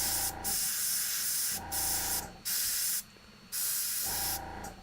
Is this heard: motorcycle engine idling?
no